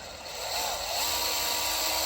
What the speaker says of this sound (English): So let's drill that out.